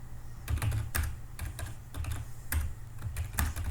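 Rapid keystrokes on a computer keyboard while Delphi code is entered, irregular clusters of clicks and taps at close range with no voices.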